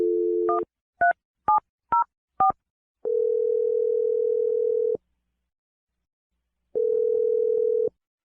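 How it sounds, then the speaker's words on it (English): Telephone keypad tones beep five times in quick succession, followed by two long steady ringback tones separated by a short silence, clear and alone. "We're going to dial her phone number right now."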